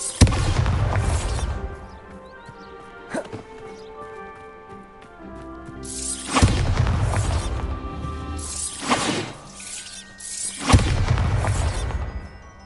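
The Bombarda explosion spell from the video game Hogwarts Legacy goes off in several heavy, booming blasts a few seconds apart, each swelling and fading over a quieter game backdrop.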